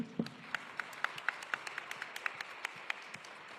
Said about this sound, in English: round of applause for the organizers and for yourselves